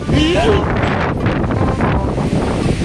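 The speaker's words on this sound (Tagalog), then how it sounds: "Napakalakas ng hangin dito." Strong wind of about 30 knots at Dingalan, Aurora, buffets the microphone with a loud, continuous roaring rumble and brief whistling tones at the start.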